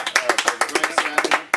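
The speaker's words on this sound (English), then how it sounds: "a massive round of applause here" Brief burst of clapping from a small audience at a pub-style quiz night, individual claps distinct and rhythmic, fairly close and moderately loud.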